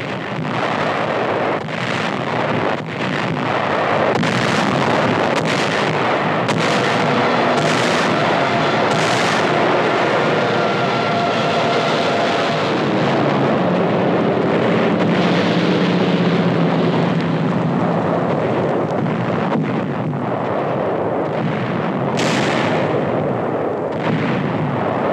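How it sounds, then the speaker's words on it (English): Heavy pre-invasion artillery shelling of the Peleliu beaches in a 1945 wartime newsreel, a dense, continuous roar of booms and blasts with rumbling, wind-buffeted noise throughout. "5 successive days of bombing and shelling climax the pre-invasion foray."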